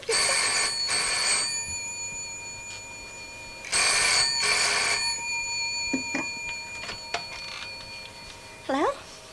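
An old telephone bell rings in two long bursts, loud and close, with short quiet gaps between them and a faint rustle and clunk afterward.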